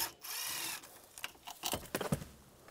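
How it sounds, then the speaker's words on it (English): A T25 socket backs a screw out during blower motor work on a 1998-2010 Volkswagen Beetle, with a short whir and then a string of quiet, close ratcheting clicks. "this screw out right here, use a T25 socket."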